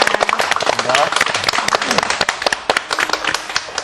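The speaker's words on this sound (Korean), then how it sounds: "오늘 좋은 말씀 주신 우리 이영우 목사님께 다시 한번 큰 박수 부탁드립니다" Church audience clapping for a pastor after his sermon, a burst of many hands with sharp irregular claps, fairly close and loud, while a voice talks over the applause.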